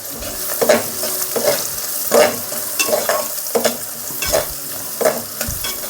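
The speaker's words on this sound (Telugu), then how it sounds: "పచ్చిమిరపకాయలు వేస్తున్నానండి." Sliced green chillies fry in hot oil in a pan for Telugu-style gongura boti curry, a steady sizzle broken by repeated stirring scrapes at a regular rhythm, close and fairly loud with no talking.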